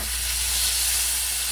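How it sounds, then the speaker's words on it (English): Loud, continuous sizzling of oxtails searing in avocado oil in a hot frying pan, a steady hiss with no pauses or voices. "So I'm going to sear these oxtails."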